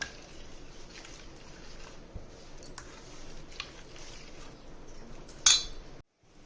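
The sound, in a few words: mixing onion and green chili into rava dosa batter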